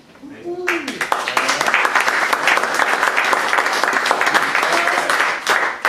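Audience applause at a lunchtime talk, rising quickly after a brief spoken moment and continuing as loud, even clapping to the end.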